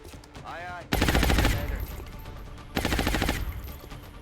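Bursts of automatic suppression fire in XCOM: Enemy Unknown, two loud rapid volleys of rattling shots separated by a short pause, with a brief voice before the first.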